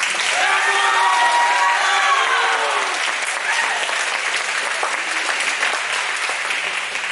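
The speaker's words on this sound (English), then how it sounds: "Give your parents and friends and family a round of applause" Audience at a school spring band concert applauding for parents, friends and family, a steady dense wash of clapping that holds for several seconds, with a few voices and whistles faintly mixed in.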